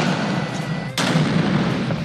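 A ceremonial artillery salute of 31 guns fires in Islamabad, one distant boom cracking out over a steady outdoor crowd rumble, with no speech in this stretch.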